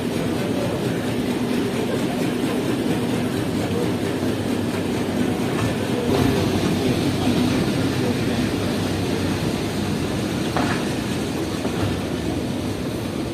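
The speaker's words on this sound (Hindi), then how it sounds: "और एक बार फिर ट्रेन दोबारा चलना शुरू।" A Jaffer Express passenger train rolls along the rails on the route from Peshawar to Lahore. A steady rumble with clickety-clack wheel beats is heard from on board, loud and continuous, with no talk.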